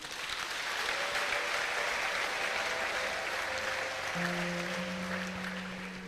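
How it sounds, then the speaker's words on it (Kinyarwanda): A church congregation applauds during a farewell service for pastors, dense steady clapping that swells and holds for several seconds, with a faint tonal sound from instruments or voices near the end. "Iyo Mana muyimpera amashyi n'impundu."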